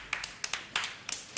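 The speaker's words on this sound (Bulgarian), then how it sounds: "Благодаря, аплодисменти, защото той все пак вършеше нещичко." Scattered bursts of hand clapping from a small group in a sitcom-style scene, about seven quick irregular claps over a quiet background, fairly close and with no talking.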